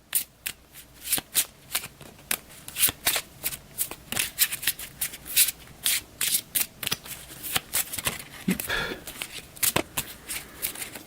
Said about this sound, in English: So we've got the item deck right here. I'll give this another crappy shuffle.